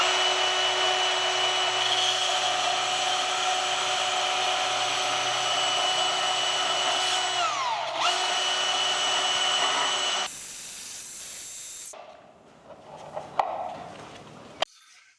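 A power saw cuts scrap metal for a blacksmithing guillotine tool, a loud continuous whine that holds steady and then drops away, followed by scattered clanks near the end.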